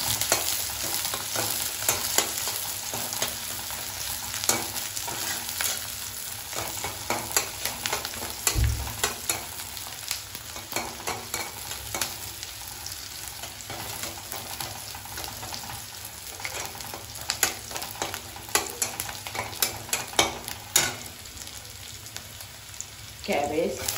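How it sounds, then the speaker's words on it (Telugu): Onions fry in a pan for Andhra-style spicy egg noodles, a steady sizzle broken by frequent scraping clicks of a spoon stirring them, close and continuous. "ఉల్లిపాయలు కొంచెం వేగిన తర్వాత"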